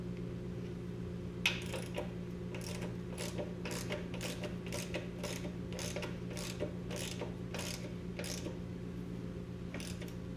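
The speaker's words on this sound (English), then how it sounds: "I'm going to tighten all this down before I tighten it to the pipe" A ratchet wrench clicks in quick repeated bursts while tightening the exhaust system on a 1976 Honda XL175 motorcycle, the sharp close clicks sounding over a steady low background hum.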